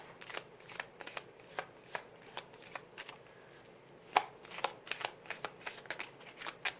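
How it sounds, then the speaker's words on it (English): An oracle deck of cards is shuffled by hand with quick, close riffling bursts in an irregular rhythm, then cards are pulled with a few sharper snaps. "I'm going to pull some cards from the Love Island deck now."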